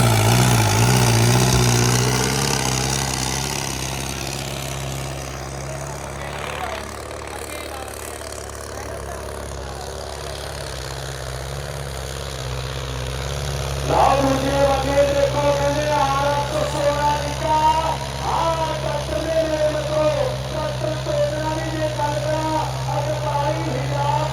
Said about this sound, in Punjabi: ਆ ਗਿਆ ਟਰੈਕਟਰ